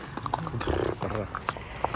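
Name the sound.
horse hooves clip-clopping on a snowy street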